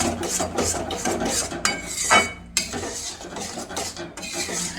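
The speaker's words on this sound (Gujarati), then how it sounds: "રીતે આપણે ગુંદરને મિક્સ કરતા રહીશું ધીમા તાપે એટલે ગુંદર જે છે એ તળાઈ જશે" Edible gum is stirred into hot flour over low heat for adadiya pak, producing repeated scraping and rubbing strokes of a spoon against the pan with a light sizzle underneath.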